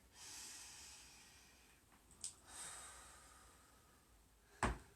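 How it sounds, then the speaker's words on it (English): Slow, deep yoga breathing, a long airy exhale near the start and a second swelling breath around the middle, then a short sharp snort-like intake near the end; quiet and close, with no talking. "2 more deep breaths here."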